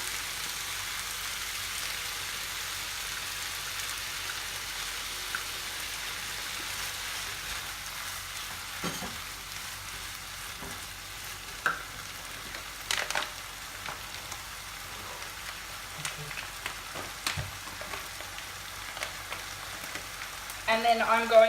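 Half a cup of oyster sauce sizzles in a hot pan with thawed, heated vegetables for fried rice: a steady, even hiss of frying throughout, with a few soft clinks and scrapes near the end.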